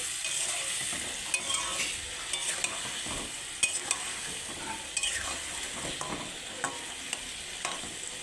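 Raw chicken and potatoes stir-fry in a pan of oil, a steady sizzle broken by repeated scraping and stirring strokes from a spatula, with no talking.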